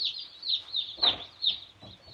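Chickens, among them a tiny bantam, cluck and chirp in a steady run of short, high calls close by, with a brief louder squawk partway through and no talking.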